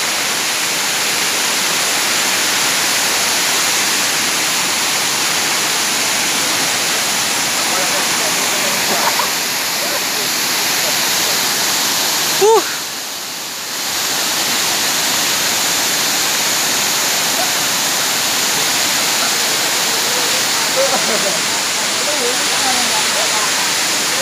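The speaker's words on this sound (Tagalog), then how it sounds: "Dito sa taas ng Merloquet Falls" Merloquet Falls, the second falls near Vitali in Zamboanga City, roars as a loud, steady, unbroken rush of water for the whole stretch, with only a brief dip midway.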